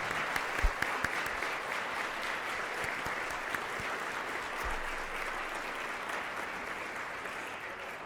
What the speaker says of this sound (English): you deserve a round of applause